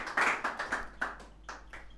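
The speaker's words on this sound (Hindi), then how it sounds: "जोरदार तालियां हो जाए भाई।" A few people clap for students at an award ceremony, sparse distinct claps in a loose rhythm, moderately close and fairly quiet, fading toward the end.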